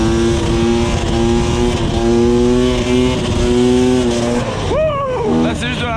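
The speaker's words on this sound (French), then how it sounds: "Les wheelings debout en enduro dans les champs c'est trop kiffant." An enduro motorcycle engine revs hard and steadily during a standing wheelie across a field. The sound is loud and close, and the pitch swings up and down near the end.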